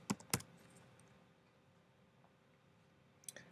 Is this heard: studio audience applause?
no